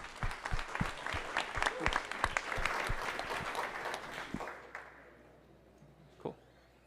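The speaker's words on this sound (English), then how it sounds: "Give him a warm applause" A conference audience at Devcon VI in Bogotá applauds a speaker, a sustained burst of many hands clapping that swells, holds for several seconds, then thins out into a few scattered claps and quiet.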